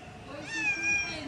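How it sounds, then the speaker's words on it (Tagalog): A cat meows once in a garden in Jimenez, Misamis Occidental, a single drawn-out, rising-then-falling call, close and clear over a soft outdoor background. "listen, wait lang, pahingan yung pusa."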